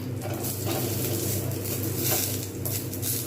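Cashew nuts frying lightly in a pan, a steady close sizzle and patter with faint rattling as they shift, no talk.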